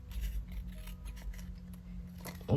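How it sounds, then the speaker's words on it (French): A pair of scissors snips paper for a mini sketch card, giving several soft, close cutting crunches at an irregular pace against a quiet background. "Je fais tout avec ma paire de ciseaux."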